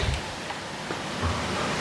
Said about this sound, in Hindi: अभी तो सामने पूरे पहाड़ों पे ये बादल कोहरा वगैरह आ गया और बारिश लग रही है बहुत तेज़